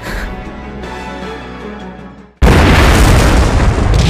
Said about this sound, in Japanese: それにこれは発砲音。